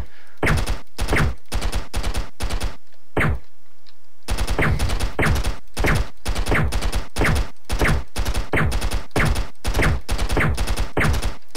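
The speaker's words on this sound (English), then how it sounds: "I killed him with a handgun" Handgun shots in the video game Stick Arena Dimensions ring out loud and sharp in a long rapid series, roughly evenly spaced with a brief pause partway through, clean and without talking.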